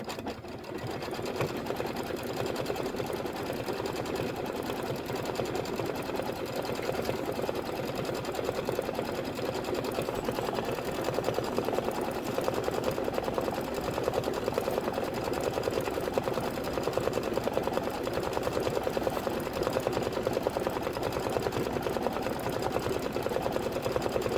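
Sewing machine stitching a popsicle template for a rainbow popsicle quilt block, a steady, fast, continuous mechanical whir with rapid needle clatter running close and loud throughout, with no talking over it.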